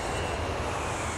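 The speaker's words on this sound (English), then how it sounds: "The plane was taking off." A cartoon airplane taking off, a steady, dense roar of jet engine noise holding level throughout, close and loud, with no voices.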